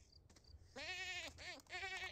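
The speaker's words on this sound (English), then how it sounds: "Oh, look at our baby goat." Baby goat in The Sims 4 bleating, two or three wavering nasal bleats in quick succession, close and clear over a faint game background.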